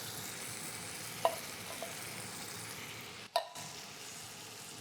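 Canned beans poured into a hot pan of onions and bacon, a steady close sizzle and fry with a couple of sharp clinks and scrapes from the can against the pan.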